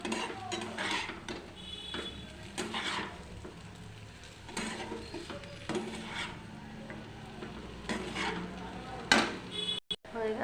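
Egg bhujia seasoned with salt is stirred in a pan, with repeated scraping and clinking of a utensil against metal over a faint sizzle, ending in a few sharp knocks.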